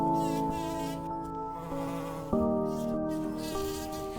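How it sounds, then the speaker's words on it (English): A bumblebee buzzes at a flower, a close, steady, loud drone whose pitch shifts in steps as the wingbeat changes, with no talk. "This buzzing is a secret password, the key to a lock. What this bumblebee is after is pollen."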